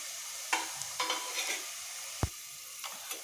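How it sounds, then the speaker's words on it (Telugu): Curry leaves dropped into hot oil with fried onion pieces for an amaranth leaf curry, a soft sizzle under scattered stirring scrapes and one sharp utensil tap. "ఇప్పుడు కరివేపాకు వేసుకోవాలి."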